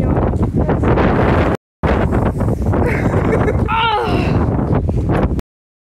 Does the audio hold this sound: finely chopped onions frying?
no